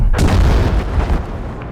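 A loud, deep boom hits and rumbles on, a large bomb explosion in Battlefield V with crackling debris fading out over a second or so.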